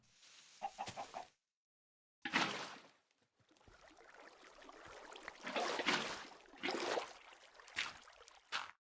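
A Minecraft chicken clucks in short bursts separated by brief silences, fairly faint and close, with quick repeated cackling notes and no talk over them.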